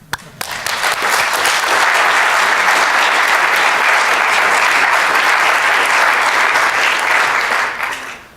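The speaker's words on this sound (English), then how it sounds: "and we applaud you again." A conference audience at a panel on digital media gives loud, sustained applause, the clapping swelling quickly to a dense, even roar before fading out near the end.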